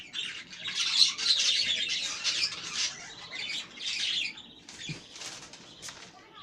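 Colourful pet budgerigars chatter in a dense, close flock, with bursts of high chirps and squawks mixed with fluttering wing beats, loud and continuous with brief lulls and no talking.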